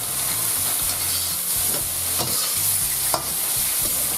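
Mushrooms frying over high heat in a pan give a steady, close, loud sizzle, with the pan stirred now and then and a few sharp clacks.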